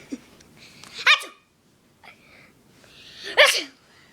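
A person sneezes twice, about two seconds apart, each a sharp, loud burst with a quick breathy intake before it, close to the microphone with quiet in between.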